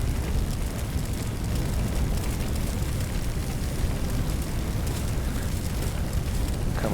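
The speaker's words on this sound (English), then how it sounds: "You see how that keeps kind of trying to flare up on me all the time." A steady, dense roar of fire flaring in a firefighting video game, continuous and loud, with a low rumbling rush and no pauses throughout.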